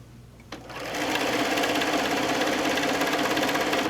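Sewing machine stitching down the first side of a quilt, starting after a brief pause and then running steadily at a loud, continuous buzzing hum with a fast mechanical rhythm throughout.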